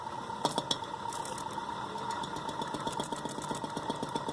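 A Hampton Bay Huntington III ceiling fan motor running bladeless on its low setting gives a steady close mechanical hum with a faint rhythmic ticking and whirr.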